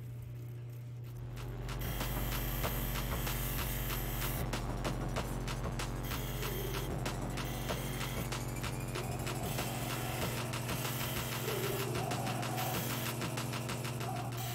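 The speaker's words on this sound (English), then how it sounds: "we use the Cab King. Highly recommended machine." A Cab King opal cutting machine runs steadily for the whole stretch, with a constant motor hum and grinding noise that starts softly and swells to a loud, even level after about two seconds, with no talking.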